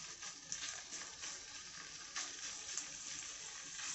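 Quiet, steady sizzling of fat frying in a pan for galushki, with soft crackles and a few small pops.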